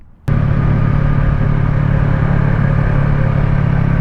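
A Yamaha R3 motorcycle fitted with modifications roars loudly and steadily while being ridden, its engine drone and road rumble starting abruptly and holding constant, heard up close.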